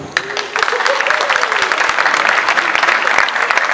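An audience at an ISEG school ceremony breaks into applause. The clapping starts after a brief pause, then stays dense, close and steady to the end.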